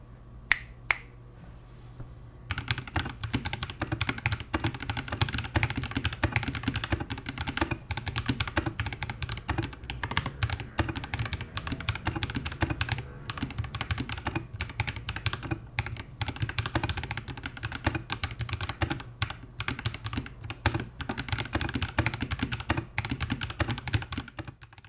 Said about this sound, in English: However, the keyboard does sound a bit hollow, so a little bit of foam would help.